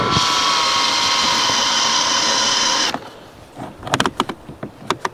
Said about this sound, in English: So I'm just going to go ahead and drill into it.